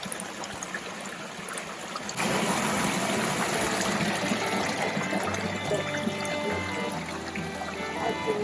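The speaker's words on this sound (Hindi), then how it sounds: "तो अब हम भी भरते हैं पानी को" Clear, cold water from a small mountain stream in Kinnaur runs steadily as a container is filled, the flow growing louder and fuller partway through, with no talk.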